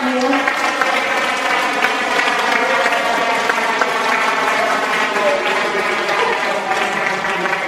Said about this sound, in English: Let's give them a round of applause and thank you.